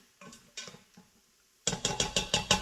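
Spices and onions stirred together inside an Instant Pot, with a few soft scraping taps at first, then a brief gap, then a quick run of six louder, evenly spaced clacks of a utensil against the pot.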